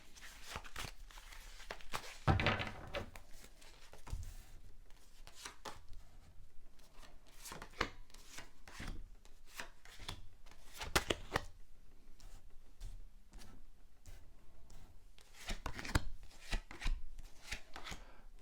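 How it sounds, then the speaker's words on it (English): Tarot cards being dealt and laid down one by one on a table, a long run of soft close taps, slides and sharp flicks in an irregular rhythm, with quiet pauses between them and no speech. "lay down your 10 cards on the table."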